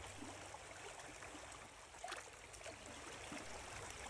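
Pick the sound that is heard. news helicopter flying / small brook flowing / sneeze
small brook flowing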